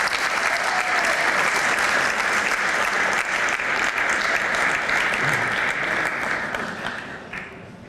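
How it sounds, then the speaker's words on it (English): An audience applauds at a Simsbury High School Hall of Fame banquet, dense sustained clapping filling the room for several seconds before tapering off at the end. "give her a round of applause"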